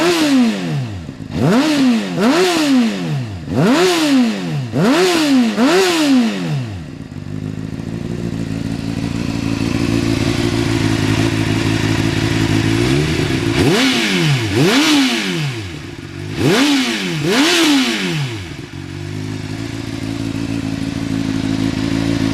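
Motorcycle exhaust with the baffle fitted, warmed-up bike given a series of sharp throttle blips: four quick revs in a row, a steady idle, then two more loud revs before settling back to idle, close and loud.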